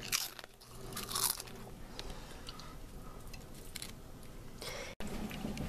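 Doritos chips are crunched and chewed up close, with loud bites early, then irregular wet chewing that continues to the end after a brief cut.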